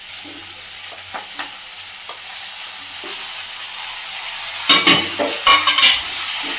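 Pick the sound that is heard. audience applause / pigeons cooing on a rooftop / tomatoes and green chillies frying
tomatoes and green chillies frying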